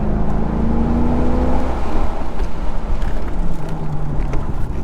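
A 2001 Corvette accelerates on a race track, its engine a loud, close, rising roar under heavy wind buffeting.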